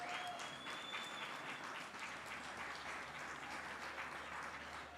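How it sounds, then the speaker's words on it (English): Crowd applause at a district fastpitch softball championship game, a steady dense wash of clapping sustained for the whole stretch, moderately loud and even, with no talk over it. "another round of applause for these 2 amazing teams"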